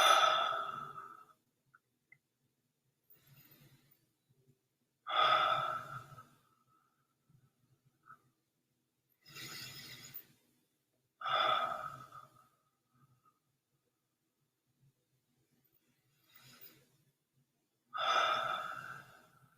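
Slow, deep breaths during a guided meditation, each long inhale and exhale rising and fading about every five seconds, close and alone with quiet pauses between.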